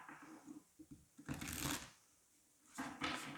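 Tarot cards are shuffled up close in a few quick riffling bursts, separated by soft handling taps and brief pauses.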